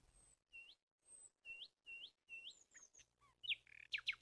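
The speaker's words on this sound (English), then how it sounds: "he was feeding the birds on his window ledge" Small birds chirp at a window ledge in wintry weather, with a series of short, bright tweets in a quick rhythm that become busier and louder toward the end, close and clear against quiet background.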